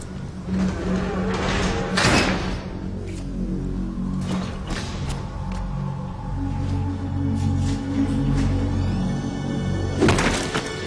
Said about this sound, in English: Open the door for another cutscene.